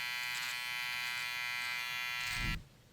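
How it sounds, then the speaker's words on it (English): A Wahl lithium-ion hair trimmer with a clipper motor buzzes steadily and close up, a bright electric whine with strong harmonics, until it cuts off abruptly near the end after a brief low thump. "this particular trimmer has a clipper motor inside of it"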